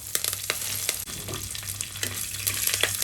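Curry leaves sizzling in a hot pan alongside dried red chillies while preparing a Kerala tender jackfruit dish, with steady close frying crackle and intermittent stirring scrapes, no talk.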